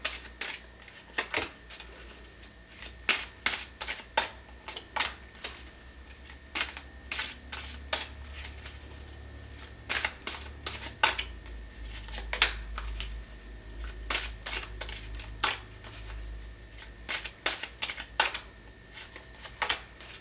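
Tarot cards are handled and picked from a deck, producing many sharp, close snaps and flicks in irregular bursts over a low background hum, with no talking.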